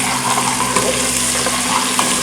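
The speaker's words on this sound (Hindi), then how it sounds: "लहसुन को बहुत ज़्यादा फ्राई ना कीजिएगा कि वो जल ना जाए" Ginger and garlic sizzle in hot oil in a pan for chicken korma, a steady, loud, close frying hiss without pauses.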